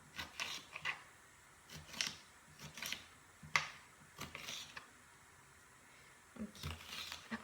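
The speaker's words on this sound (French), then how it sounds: "je vais couper le petit poivron pour le faire rissoler à la poêle" Knife slicing a small bell pepper finely into strips on a board: a quiet, irregular series of short crisp cuts and taps, close up with no voices.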